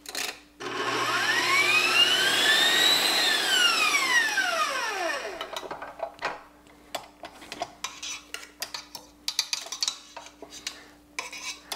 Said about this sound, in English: We're going to whisk this until we get stiff peaks.